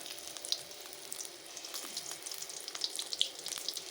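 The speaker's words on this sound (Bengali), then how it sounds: "এইভাবে একটা একটা করে আমি মুখটা বদ্ধ করে এই দেখো দিয়ে দিচ্ছি তেলের মধ্যে" Stuffed pointed gourds (potol), sealed shut, sit frying in hot oil. A soft, continuous hiss and bubbling fills the background, with scattered small pops and crackles and no voices.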